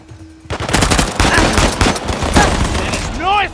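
Rapid automatic gunfire from a shootout in Uncharted: The Lost Legacy, a loud dense burst of shots starting abruptly and continuing throughout, with a shouting voice briefly heard near the end.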